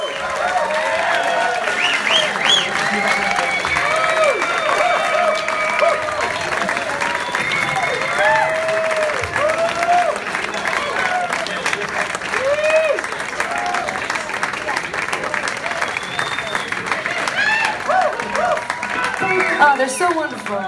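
Sustained applause from a live concert audience at a show in Washington, D.C., dense, steady clapping that fills the whole stretch with scattered cheers and no break.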